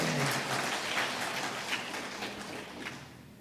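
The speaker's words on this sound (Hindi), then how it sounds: "तालियां बड़ी कमजोर है फिर, तब तो और जोरदार होनी चाहिए" Audience applause during a religious discourse on the Ram Vivah katha in Korba: a soft, continuous wash of clapping from a distant crowd, fading slightly toward the end.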